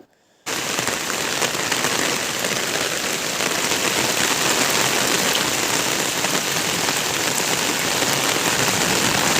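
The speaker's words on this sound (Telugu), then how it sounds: "వాటర్ చూసారా ఎంత వేగంగా వెళ్ళిపోతున్నాయో" Heavy rain pours steadily around a half-flooded house, a dense continuous hiss of water striking surfaces and rushing past, loud and unbroken after a brief quiet start.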